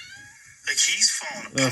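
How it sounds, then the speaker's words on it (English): A cat lets out a short, drawn meow close by, overlapping someone talking. "That's my cat."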